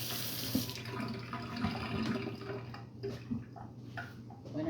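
Tap water runs steadily into a kettle in a kitchen, a faint continuous splashing flow with small clinks and shifts in the stream, no voices.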